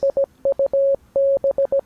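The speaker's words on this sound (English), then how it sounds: "they play words in Morse code" Rapid Morse code: a single clean electronic tone beeping in quick short dots and longer dashes, close and clear.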